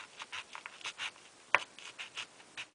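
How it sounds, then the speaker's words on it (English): Scissors snipping through card in a series of short, close, quiet cuts at a steady rhythm, with one sharper snap partway through and no talking. "I'm going to just go ahead and use my scissors"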